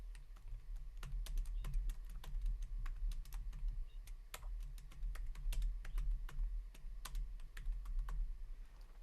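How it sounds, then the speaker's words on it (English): Steady typing on a computer keyboard, a run of crisp key clicks in uneven bursts close to the mic, with a low background hum and no talk. "Now here's where we type in our message"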